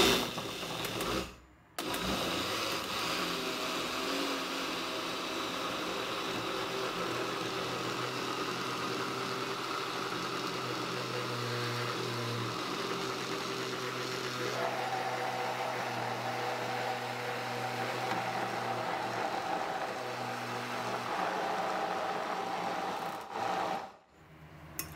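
A kitchen mixer runs steadily, beating ground meat and egg for a low-carb meat bread, with a continuous whirring rasp that shifts pitch midway and briefly cuts out near the start and end.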